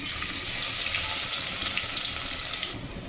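Crushed garlic sizzling in hot oil for a tempering of katachi aamti, a spicy Karnataka dal, a steady, dense frying hiss that stays loud and continuous before easing slightly near the end.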